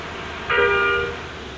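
A single short horn toot from a passing vehicle, about half a second long, moderately loud over steady road and background noise.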